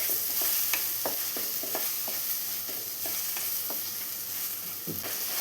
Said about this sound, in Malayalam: ഇനി ഇവിടെ തക്കാളി നന്നായി ഒന്ന് വഴറ്റിയെടുക്കണം